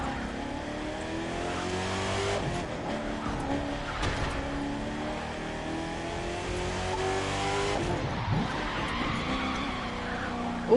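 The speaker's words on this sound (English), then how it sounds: "Ooh, I got a 1 yard drift." A car drifts and skids in The Crew 2 racing game, with a continuous engine roar and a rising, wavering tire squeal that runs throughout, loud and close.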